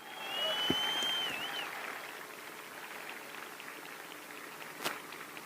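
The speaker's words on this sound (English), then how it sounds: "Ladies and gentlemen, a round of applause for the Marines that make Marines, the drill instructors of Golf Company." Crowd applauding drill instructors of Golf Company at a Marine Corps Recruit Depot San Diego graduation, a broad outdoor wash of clapping that swells early then settles into a steady, fainter patter with a whistle and scattered cheers.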